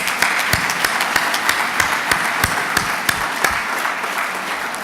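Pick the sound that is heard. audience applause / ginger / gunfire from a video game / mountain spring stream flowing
audience applause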